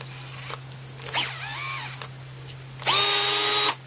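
A DEWALT 8V MAX gyroscopic cordless screwdriver tightening the screws of a loose doorknob, with short whirring motor bursts rising and falling in pitch, the last burst longest and loudest, close up between quiet pauses.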